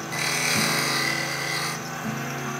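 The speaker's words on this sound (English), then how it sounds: "if I just scrape it one more time and give it a little chamfer on this side" A wood piece turns on a lathe while a tool scrapes and chamfers it, giving a steady close whirring hum with a harsh scraping rasp that shifts pitch midway, no talk.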